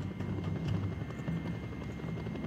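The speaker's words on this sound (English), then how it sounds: "Helicopter." A helicopter in Just Cause 2 drones steadily with a low, pulsing rotor thump, close and continuous with no voices.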